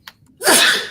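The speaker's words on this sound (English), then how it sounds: "I'm about to sneeze." A single loud, close sneeze bursts out after a brief sharp inhale, standing alone with no talking.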